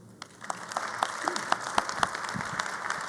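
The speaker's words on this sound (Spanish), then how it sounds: "un gran aplauso para nuestros compañeros deportistas de aquí de la Ciudad de México" Applause from an audience at a weekly assembly in Mexico City honouring local athletes, steady dense clapping with sharper individual claps standing out, fairly close and filling the whole stretch with no speech over it.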